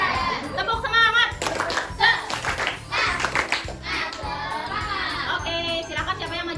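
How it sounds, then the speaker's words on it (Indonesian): Schoolchildren in a classroom perform a rhythmic spirit clap, sharp patterned hand claps in a repeating beat with a teacher and kids chanting along, some faint jingling in the room. "Tepuk semangat."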